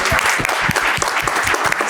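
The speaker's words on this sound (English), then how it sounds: "can we give them another round of applause for, I think it was an amazing movie" An audience applauds after the world premiere screening of a film about becoming interplanetary, a dense, steady clapping that runs unbroken through the whole stretch, close and fairly loud.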